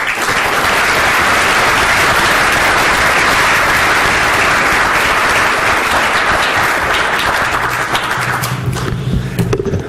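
Loud, dense audience applause welcomes Prof. Salah Sukkarieh to the stage at a 2015 innovation lecture, holding steady before tapering off at the end as footsteps and a voice emerge.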